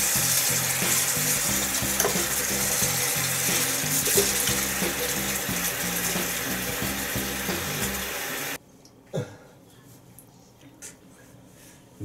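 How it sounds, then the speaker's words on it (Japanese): Someone washes their hair under running water. A loud, steady spray of water goes on for about eight seconds and then cuts off, leaving a few quiet drips and small knocks. "あ、頭洗うか。"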